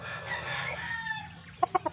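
A fighting gamecock gives a drawn-out, strained crow-like call, then a burst of four sharp, close clucks at the end. No one talks.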